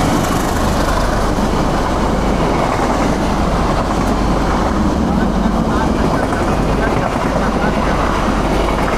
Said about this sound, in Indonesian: Di setiap stasiun kita berhenti dan menunggu kereta api lewat dulu